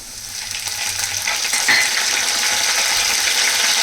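Onions sizzle and crackle steadily in a hot pan while green chilli chicken pulao is being cooked. A dense, continuous fry hiss holds close and fairly loud, with a few light stirring clinks partway through.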